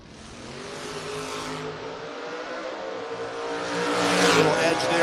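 Two drag racing cars, a 1974 Nova and a borrowed Nova, launch side by side at a racetrack, engines roaring steadily and swelling louder as they pull away, with a race announcer's voice faintly in the background.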